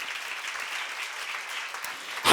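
Congregation applause at a church seminar, a steady wash of many hands clapping at moderate level, ending with a sudden louder burst.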